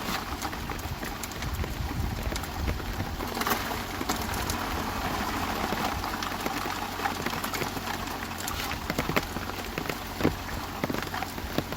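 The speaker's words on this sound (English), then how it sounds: "A little bit of hail coming down" Hail and rain pattering steadily on an outdoor surface at a gold mining site, a dense continuous patter with scattered sharper hits across the whole stretch, no talk.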